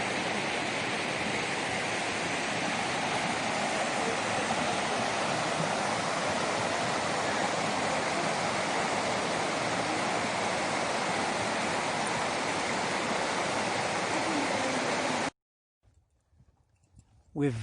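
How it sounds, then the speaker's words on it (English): A waterfall at Iztaccihuatl Popocatepetl National Park in Mexico, heard from its top as a loud, steady broadband rush of falling water that fills the scene for about fifteen seconds and then cuts off abruptly. "Here's the top of the waterfall"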